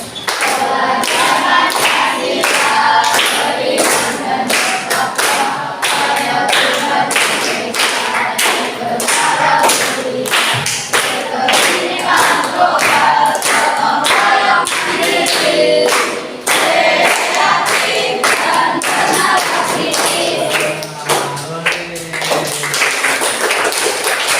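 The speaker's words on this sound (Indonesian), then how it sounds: "Masa berdiri sambil tepuk tangan" A class of schoolchildren stands and claps in steady rhythm while singing together, the loud claps and group voices continuing without a break.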